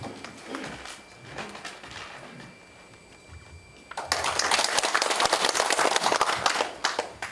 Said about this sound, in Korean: 모두들 뜨거운 박수로서 맞이해 주십시오